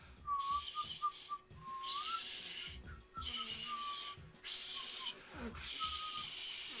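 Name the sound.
whistling attempt in a video game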